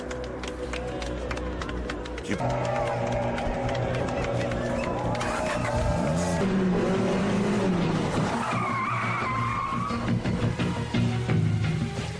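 Race cars in an action film tear past with roaring engines, screeching tyre skids and rising and falling engine whines, loud and close over a busy soundtrack, with brief voices mixed in.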